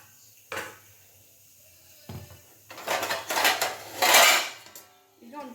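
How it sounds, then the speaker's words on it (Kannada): Metal plate set over a pan of plantain curry, a few separate clinks and clatters followed by a louder rattling scrape as it settles, close by with no talking. "ಒಂದು ಪ್ಲೇಟ್ ಮುಚ್ಚಿಟ್ಬಿಡೋಣ"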